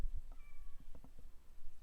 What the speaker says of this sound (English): No, Kitty, you're not coming in